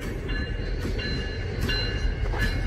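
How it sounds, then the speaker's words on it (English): A refrigerated boxcar on a Wisconsin Central Limited freight train rolls past close by with a loud, steady rumble and a faint high wheel squeal. "Refrigerated boxcar."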